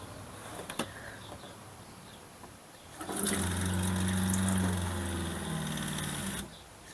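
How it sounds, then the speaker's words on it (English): RV camper water pump starts after a tap opens, a steady motor hum with a higher whine running for several seconds and then stopping, preceded by faint knocks and clicks. "So I'll just turn on the tap and you can listen to the pump run."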